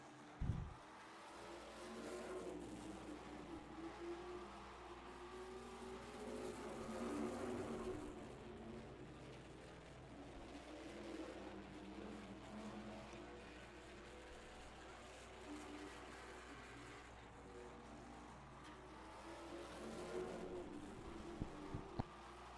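Race cars roar around a short oval track at a dirt or asphalt racing event, a continuous distant engine drone that swells and fades as the field passes, with faint commentary underneath.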